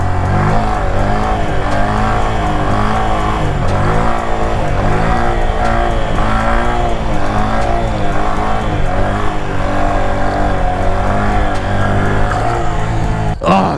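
A stunt motorcycle rides slowly at about 10 mph during practice, its engine droning steadily and loudly close by with a rhythmic, pulsing throttle note throughout, ending in a brief sharp knock.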